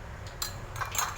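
A metal spoon dipped into water while scooping tekwan, a Bangka fish-ball dish, gives a few light, bright clinks and taps, sparse and irregular, close by over a soft low background.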